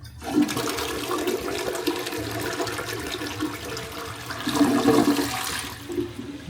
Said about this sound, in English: our commode's kind of a slow flush right there